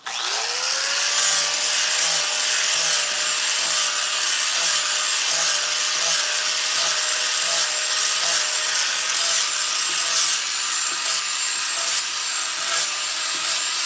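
A 4.5-inch angle grinder carves into wood with a steady high-pitched whine and rough abrasive rasp, loud and close, running continuously with slight rhythmic pulses as it bites.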